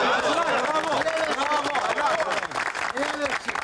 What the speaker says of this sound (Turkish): Kızılayımıza alkışlayalım.